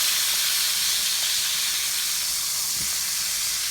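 Meat searing on one side in a hot pan gives a steady, loud broadband sizzle and hiss that holds evenly and without pause for the whole stretch, with no voices over it.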